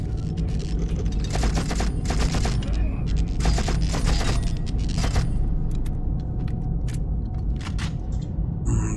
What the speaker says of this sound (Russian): Бомбы там бабахают.